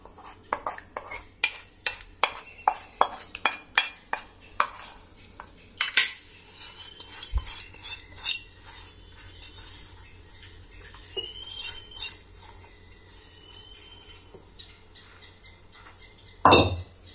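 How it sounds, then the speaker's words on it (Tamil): A spoon scrapes and clinks against a vessel while hair dye paste made with curry leaves is transferred into it, a run of sharp, regular metallic taps followed by softer scraping and an occasional louder clink, close and clear. "இதை ஒரு பாத்திரத்தில் நான் மாற்றிக்கிறேன்"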